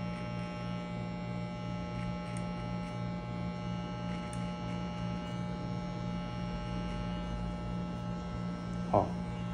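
An electric hair clipper set between the half and zero guards cuts a skin fade, giving a steady close electric hum and buzz that runs the whole time with no interruptions.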